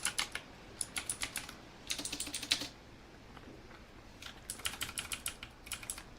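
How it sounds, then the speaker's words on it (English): Close, crisp clatter of typing on a computer keyboard during a live ASMR stream, with quick bursts of key clicks separated by short pauses and no voice. "There's gonna be some typing ASMR here."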